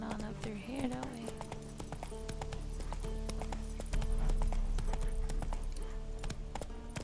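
Roach, the horse in The Witcher 3, trots with steady, close clip-clop hoofbeats under continuous game music, with a voice speaking over the rhythm.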